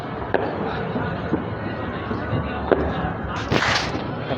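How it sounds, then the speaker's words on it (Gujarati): Scattered sharp pops and cracks of firecrackers during Makar Sankranti in Surat, one louder burst near the end, over a continuous noisy background with voices murmuring. "આમ તો ફટાકડા ફૂટે દેખાય તમને દઉં"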